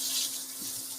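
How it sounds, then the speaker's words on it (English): Water running from a kitchen faucet, a steady close hiss and splash with a faint low hum beneath, no speech. "faucet"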